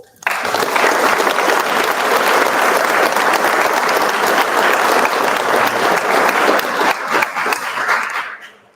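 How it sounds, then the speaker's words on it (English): A crowd at a high school football signing day event breaks into sustained, dense applause, loud and continuous, with a few scattered voices before it tapers off. "y'all give them a round of applause"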